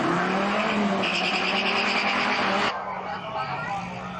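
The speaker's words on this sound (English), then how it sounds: "And the cars are speeding up from 0, so they're accelerating." Race cars roaring loudly as they accelerate from a standstill, a dense continuous engine drone with rising tones and some tyre noise, dropping in level partway through.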